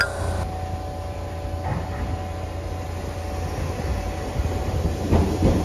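A JR Kyushu 305 series electric train rumbles through Chikuzen-Fukae station, a loud steady roll of wheels and motor close by, with faint squeals and clatter over the continuous drone.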